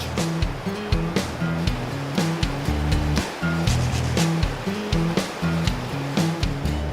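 A milky, silt-laden glacial river rushes along, a loud continuous roar of churning water with recurring surging swells and low thumps, no voices.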